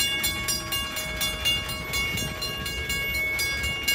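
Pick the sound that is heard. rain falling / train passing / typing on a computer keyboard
train passing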